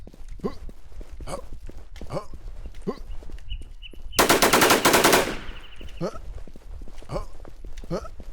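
In a video game, one loud burst of automatic gunfire lasts about a second. Steady rhythmic thudding footsteps run underneath before and after it.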